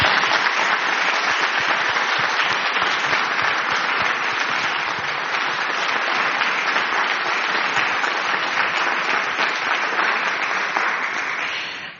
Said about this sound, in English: I'd like us all to give them a round of applause